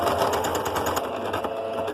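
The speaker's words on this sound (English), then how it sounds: "So I'm going to just stitch through this first piece and then show you what I mean about chain stitching." A sewing machine chain-stitching fabric pieces for machine appliqué on a Welsh flag cushion, with a rapid, continuous mechanical whir and clatter of the needle close up and alone.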